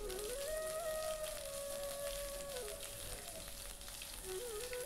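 Ginger paste sizzles in hot oil in a pan already holding whole garam masala (cardamom, cinnamon, cloves and a dried red chilli). A faint, steady hiss runs the whole time beneath soft background music.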